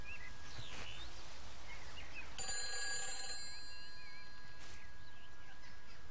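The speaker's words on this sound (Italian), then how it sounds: "Di nuovo un telefono che suona." An old telephone bell rings once in a quiet English outdoor setting of the video game Everybody's Gone to the Rapture, a bright, moderately loud trill over soft birdsong and ambient hiss.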